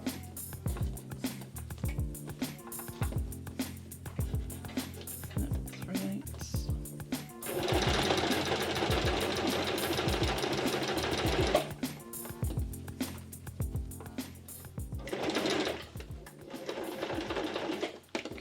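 A sewing machine stitches a tote bag in short bursts of rapid mechanical chatter, pausing between runs and then whirring through a longer continuous stretch, close up, with a voice talking quietly in the gaps.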